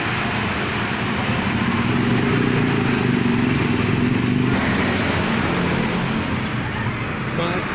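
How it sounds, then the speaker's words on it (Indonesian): Steady, dense drone of congested traffic on the Pantura road in Karawang, with car and motorcycle engines idling and creeping together in a continuous low rumble that never lets up, close by and fairly loud. "Macet teman-teman, macet nih yang mau mengarah ke timur."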